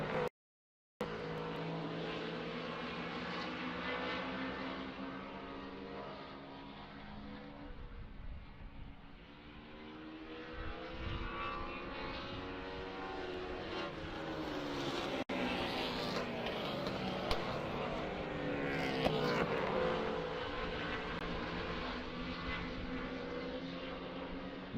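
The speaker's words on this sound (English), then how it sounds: "Now the 86 car of Tyler Holmes appears to be reeling in that 2 car of Travis Holmes" Race cars lapping Alaska Raceway Park in a Baby Grand feature, a continuous loud engine roar rising and falling as cars pass, with no voices.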